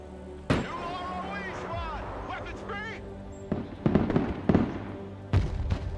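A tank in the game Broken Arrow popping smoke grenades: several sharp pops and thumps in quick bursts, scattered amid game noise and a speaking voice.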